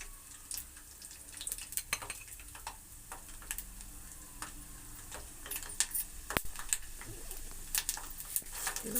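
Peanuts frying in hot oil in a pan for masala chitranna, a steady low sizzle dotted with scattered crackles and pops, close and moderately quiet with no talking.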